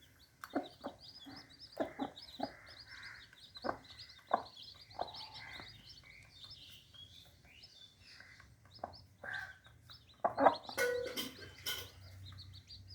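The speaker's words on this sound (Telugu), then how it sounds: "కోడి పెద్ద గింజ ఎరుగు తింటూ ఉంటుంది పిల్లలు చిన్న గింజలు ఎరుగు తింటూ ఉంటాయి" A hen and her newly hatched chicks peck at grain, giving soft, scattered clucks and thin high peeps in short irregular bursts against a quiet background, with a louder cluster near the end.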